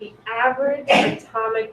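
A single sharp sneeze bursts out midway through a man's steady lecture speech in a classroom, loud and brief between spoken phrases.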